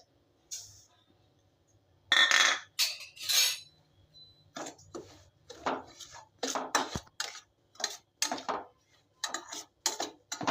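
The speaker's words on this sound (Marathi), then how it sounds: "कढई गरम झाल्यानंतर त्याच्यामध्ये आपल्याला रवा भाजून घ्यायचा आहे अगोदर।" Semolina roasts in a dry kadai as a spatula scrapes and clinks against the metal in irregular bursts, close and crisp, with quiet pauses between strokes and no talk.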